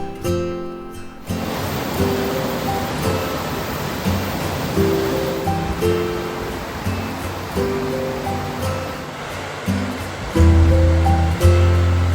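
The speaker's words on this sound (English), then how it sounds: "Sounds like there's a stream down here somewhere." Steady rushing water from a stream in a gorge flows continuously, a broad wash of sound from below, with faint intermittent tones over it.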